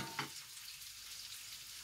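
Potatoes and onions fry in fat in a pan, a steady broadband sizzle with a brief louder crackle near the start, then an even hiss throughout with no talking.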